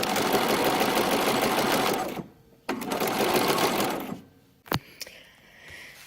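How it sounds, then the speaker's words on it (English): Sewing machine stitching the hemline of a facing with interfacing, a loud steady mechanical whir that runs, stops briefly, starts again, then ends with a few clicks. "I'm sewing just the hemline around."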